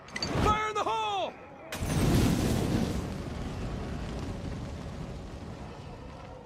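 An explosive detonating in State of Decay 2: a loud deep blast follows a voice shouting, then a long rumbling roar that slowly fades.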